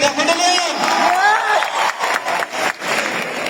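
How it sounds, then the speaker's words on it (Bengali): A crowd at a Bangladeshi film promotion event applauds the film's lead actors and team, with a steady wash of clapping and cheering mixed with voices throughout. "একটা করতালি হয়ে যান।"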